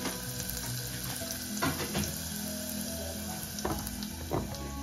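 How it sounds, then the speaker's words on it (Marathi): Onion and garlic frying in oil with a pinch of asafoetida for a prawn curry, a continuous moderate sizzle with a few brief louder crackles and spoon scrapes, close and without talk. "बघा आपला कांदा आणि लसूण भाजली आहे"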